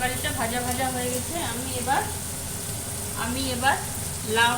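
A vegetable curry fries in a pan with a continuous bright sizzle, while a voice speaks intermittently over it.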